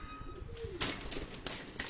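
A pigeon held on a rooftop loft gives a soft, brief coo among faint chirps and a light flutter, quiet and close.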